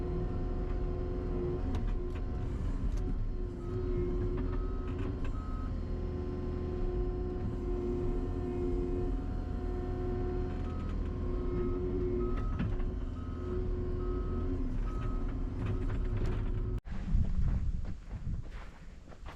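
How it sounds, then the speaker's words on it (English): A skid steer loader at a demolition site where a barn once stood rumbles steadily as it drives toward a pile, a loud continuous diesel drone with clanks and rattles, ending in a sharp knock. "we're rocking the skid steer a little bit, just taking it over to the pile"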